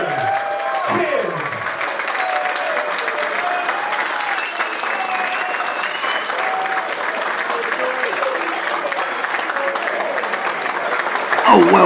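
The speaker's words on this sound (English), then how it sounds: "A well-deserved standing ovation there for Johnny Kidd by the crowd here at Potter's Bar" Sustained crowd applause and cheering for a standing ovation at a wrestling event in Potters Bar, steady and loud throughout, with shouting voices mixed into the dense clapping and a louder swell at the end.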